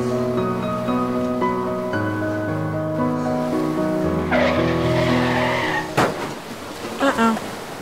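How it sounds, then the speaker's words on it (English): In the video game To The Moon, piano music plays and then a car's tires screech in a long, rising skid, followed by a sharp, loud crash and a few scattered clattering impacts. "Car crashes."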